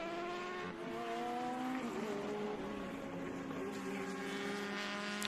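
Vintage race cars, among them a 1965 Lotus 23B, scream past on the final lap at the Mid-Ohio Sports Car Course, loud overlapping engine notes rising and shifting pitch in a sustained, dense roar.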